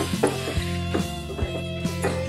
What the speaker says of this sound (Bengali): চিংড়ি গুলো দিয়ে এবার ভালোভাবে কষাতে হবে